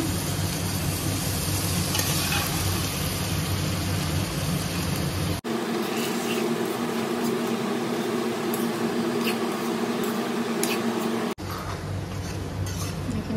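Boiled lobia (black-eyed beans) frying in oil in a pan, Assamese style, with a steady loud sizzle and occasional scraping of a stirring utensil, the sizzle briefly louder and rougher in the middle before settling.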